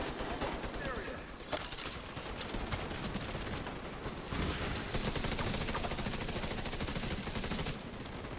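Sustained gunfire in The Division 2, with rapid automatic bursts and overlapping shots rattling continuously at close range, briefly broken by short pauses before more volleys.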